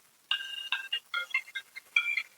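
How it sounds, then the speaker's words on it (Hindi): A phone ringtone plays in a village setting, a bright, repeating electronic melody of short tonal notes with a couple of brief pauses, fairly close and clear with no talk over it. "तेरी फोन आता है"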